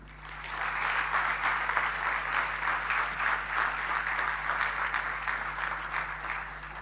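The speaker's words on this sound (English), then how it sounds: "It seems that the break has done you good and the applause is good." A crowd at a campus convocation claps steadily, a dense, even wash of applause that holds for several seconds before easing slightly.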